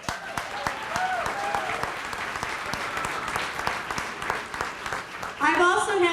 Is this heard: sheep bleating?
no